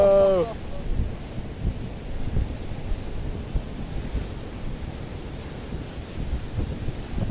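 Strong storm wind and crashing waves on the rocky Clahane shore during Storm Dennis, a continuous loud roar of surf and buffeting wind noise on the microphone throughout.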